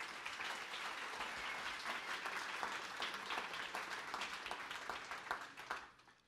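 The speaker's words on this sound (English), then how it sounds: "So everybody give a warm round of applause for Brian." Applause from a conference audience for a speaker, a steady wash of many hands clapping at moderate distance that fades out near the end.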